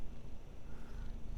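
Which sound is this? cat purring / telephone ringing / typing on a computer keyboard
cat purring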